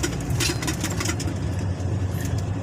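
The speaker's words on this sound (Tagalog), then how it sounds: "Traffic na guys." Road traffic with a truck engine idling close by, a steady low rumble and throb that fills the whole stretch, alongside a broad wash of passing-vehicle noise.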